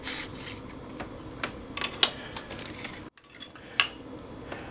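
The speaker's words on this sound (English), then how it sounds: "you can also use the long planing surfaces to take off the edge on these wings" A stepSander large offset sanding tool rasps against plastic model aircraft wings, giving a series of close, uneven scraping strokes with sharp scratchy bursts and a brief pause partway through.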